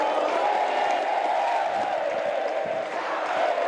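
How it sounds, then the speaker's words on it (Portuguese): A large crowd roars and applauds continuously, a dense, steady wash of cheering and clapping from a packed stadium during a memorial farewell for the Chapecoense football club. "vamos ouvir esses aplausos porque são mais do que merecidos."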